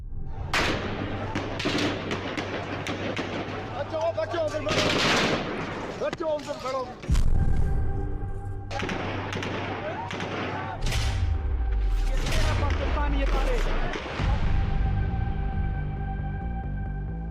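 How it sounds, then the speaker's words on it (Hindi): Heavy gunfire during civil unrest in Pakistan, loud repeated cracks and booms in bursts over a low rumbling background, with shouting crowd voices mixed throughout. "और अब शदीद फायरिंग अंदर से की जा रही है।"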